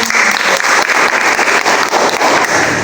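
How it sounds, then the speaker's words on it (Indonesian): A classroom of students bursts into loud, dense applause during a teaching practice lesson, steady continuous clapping filling the room for the whole stretch with no talking. "Tepuk tangan untuk kalian."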